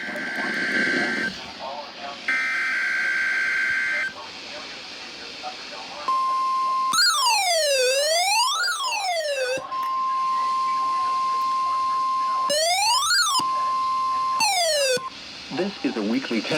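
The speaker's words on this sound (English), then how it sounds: "The warning alarm tone will be activated for" A NOAA Weather Radio weekly test, where a loud, steady warning alarm tone plays in long sustained blasts, broken up by sweeping, wailing tones and bursts of broadcast speech.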